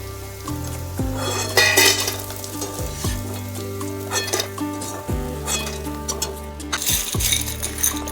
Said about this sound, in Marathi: त्यामुळं डिंक छान फुलवून छान तळूनच घ्यायचं आहे।